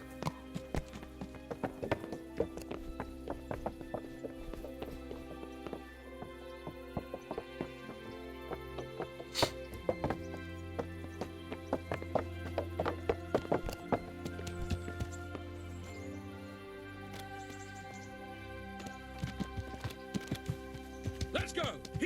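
A horse's hooves clip-clop at a walking pace in Kingdom Come: Deliverance, a steady rhythmic patter of hoofbeats running through the whole stretch alongside game music and sound effects, with people talking over it.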